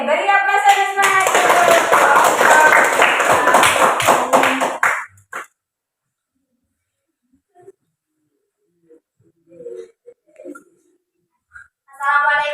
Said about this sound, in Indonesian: Oke, beri aplaus dan semangat.